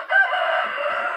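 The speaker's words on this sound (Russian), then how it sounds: "Куры появились новые, белые." New white chickens on a smallholding, a steady close stretch of bird calls and clucking with no talk over it.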